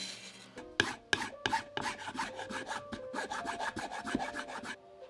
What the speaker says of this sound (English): it's very easy to remove the excess with a bandsaw or hacksaw and a hand file before sanding